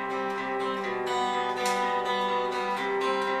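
Fingerstyle guitar picking pattern with the thumb working in opposition to two fingers played together, steady rhythmic plucked notes ringing close and clear.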